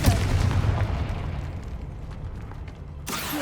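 A Confringo spell exploding in Hogwarts Legacy: a loud, booming blast with a rumbling tail that fades over a few seconds, then a sharp new burst at the very end.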